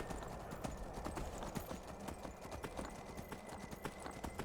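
Horse hooves clip-clopping in the Skyrim video game, a quick steady run of faint hoofbeats with no talking.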